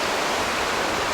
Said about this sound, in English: All comes down out of the mountains and all those little offshoot creeks into this main river